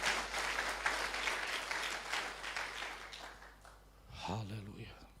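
A church congregation at a Sunday worship service gives a burst of applause that fades out, and a voice briefly speaks at the end.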